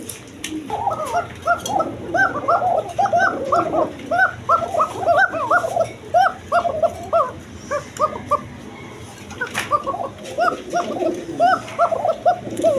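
A pair of tiger-coloured Danish pigeons coos in rapid, repeated bursts nearby, loud and continuous, with brief pauses and a faint dog-like whimper in the mix.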